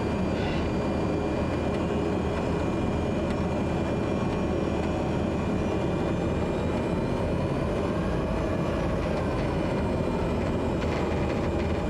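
A simulated aircraft taxis to the runway on a rainy day in Durban in Microsoft Flight Simulator 2020, its engine a steady, loud, unbroken drone with no voices.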